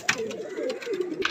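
Pigeons cooing in a loft, a soft low throaty coo rolling on close by, with faint background noise.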